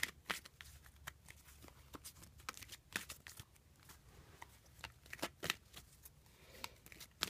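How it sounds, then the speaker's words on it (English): Tarot cards are shuffled close by in quick bursts of papery riffling and soft slaps, with brief pauses between rounds and no talking. "I'm going to shuffle."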